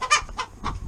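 Three quick chicken clucks spaced evenly, close by and clear, with no talking.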